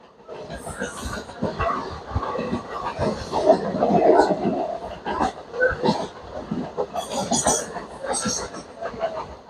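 A train rumbles along the tracks through rural Punjab, between Lohian Khas and Firozpur Cantt, with rhythmic clattering and rattling throughout and a voice talking over it.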